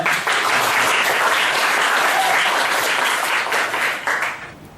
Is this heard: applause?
yes